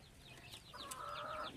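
Chickens nearing laying age cluck softly nearby in repeated short calls, with a longer drawn-out call partway through over faint outdoor background.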